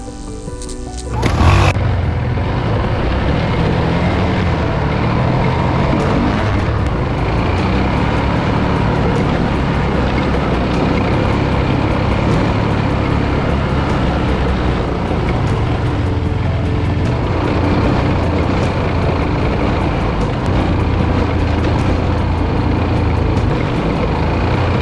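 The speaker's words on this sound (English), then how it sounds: "We have these little four-wheelers and we're going off these tiny little jumps" Kawasaki four-wheeler ATVs riding over small dirt jumps, with a loud, steady engine roar close by that surges and rumbles continuously, plus a brief sharp burst near the start, and no talking.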